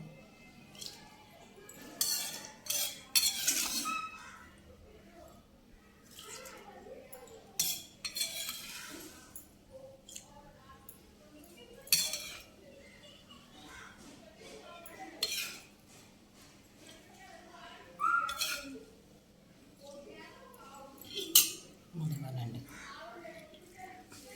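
A spoon scrapes and clinks against a steel bowl while a tempering is stirred into a moong dal chutney, in scattered bursts of metallic clatter amid quieter pauses, with a voice speaking at times.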